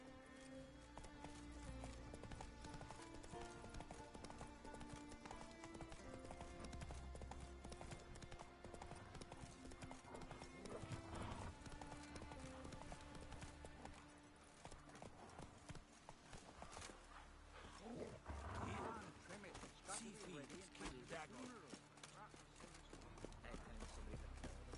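Horse hooves clip-clop steadily in The Witcher 3, a rhythmic walking gait mixed under game music and ambient sound, with voices speaking at times.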